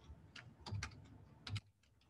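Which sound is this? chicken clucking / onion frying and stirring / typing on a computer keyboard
typing on a computer keyboard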